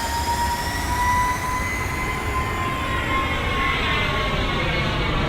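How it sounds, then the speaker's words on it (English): Engine phasing noise from a Boeing 767-300ER spooling up for takeoff in X-Plane 12, a loud steady roar with a slowly rising whine and a pulsing, beating texture. "That's the engine phasing noise that I was telling you about."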